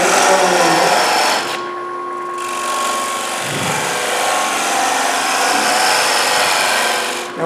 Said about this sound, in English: we just go in and start putting our foot on it. And I'm using this single gouge here.